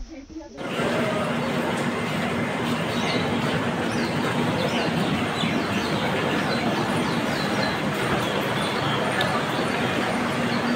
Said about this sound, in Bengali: এই হচ্ছে আমাদের ট্রেন ছিল, এটা ক্রিয়া যোগা এক্সপ্রেস, ট্রেন নাম্বার 18616।